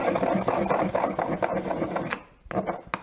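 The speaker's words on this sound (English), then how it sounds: "we're going to crush our pepper. This is what you have to do when you forget to buy another pepper grinder" Peppercorns being crushed by hand without a grinder, giving close, gritty rubbing and crunching for about two seconds, a brief pause, then a few short scrapes.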